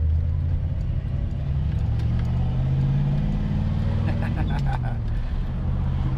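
A C2 Corvette Stingray idles with a steady low engine rumble from inside the cabin while someone talks over it.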